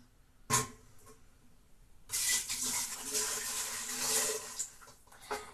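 Water pours into a steaming pot for boiling bananas, a close, strong rushing stream that starts after a brief splash and runs continuously for several seconds before tapering.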